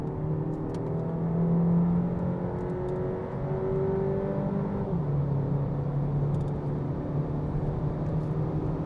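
A 2020 Renault Megane with a 1.3 TCe engine pulls hard at full throttle, its engine note climbing steadily, dropping at a gear change, then rising again, heard from inside the cabin with no talk.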